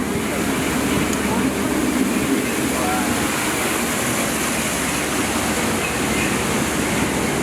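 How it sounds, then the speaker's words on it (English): Schweitzer Falls, a waterfall beside the Disneyland Jungle Cruise boat ride, pours in a steady, loud broadband rush that stays even and unbroken throughout. "Straight ahead, we have the beautiful Schweitzer Falls"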